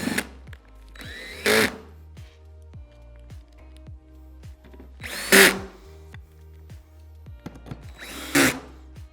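A power drill drives screws into a Blum REVEGO anchor part in three loud whirring bursts, with clicks and handling knocks between them and a faint hum underneath.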